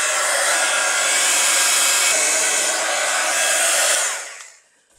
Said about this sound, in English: I am going to grab a heat gun. So it's going to get noisy for a moment.